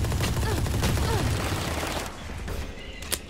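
Rapid bursts of gunfire in the video game Valorant, loud and close for about two seconds, then thinning to a few sparse shots over quieter background.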